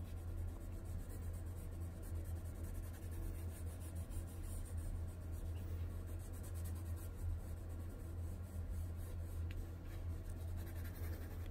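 Graphite pencil shading on paper during an art class, building up patterned texture and shadow on a still-life drawing; a faint, steady scratching that runs continuously without pause, with no talk.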